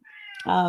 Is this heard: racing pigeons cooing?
no